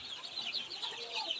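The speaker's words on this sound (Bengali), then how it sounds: "ফার্মি মুরগির বাচ্চা" Farm-bred chicken chicks at a sale give quiet, high-pitched, overlapping cheeps in a brief run, heard alone with no voices.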